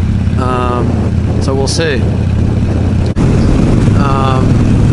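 A Harley Sportster motorcycle with fork wobble rides along, its engine a steady loud low drone under rushing wind, while someone speaks briefly over it.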